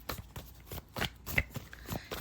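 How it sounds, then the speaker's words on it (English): Tarot cards shuffled by hand in a quiet room, a series of close, crisp riffling bursts coming in quick, uneven pulses with no talking. "Let me go ahead and shuffle for you guys."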